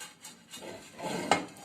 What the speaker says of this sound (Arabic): انا حطيت كده ذرة من الزيت، هلف بيها بالفرشة كده في قلب الصاج